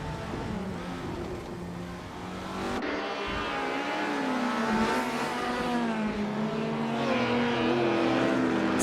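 A 1962 Ferrari 250 GTO engine roars in a racing video game, a steady droning tone that climbs in pitch as the car accelerates, with rising harmonics and a continuous, moderately loud whine.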